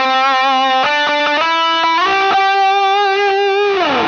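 An electric guitar lead tone plays through a compact NUX Amp Academy amp set with a mid bump and drive: a few sustained distorted notes, then a long held note that slides down at the end, loud and alone.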